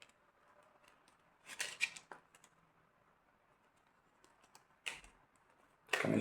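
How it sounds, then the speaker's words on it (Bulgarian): A deck of 52 ordinary playing cards being shuffled by hand, with short crisp bursts of riffling and snapping separated by quiet pauses, close up. "Нека да го размешваме."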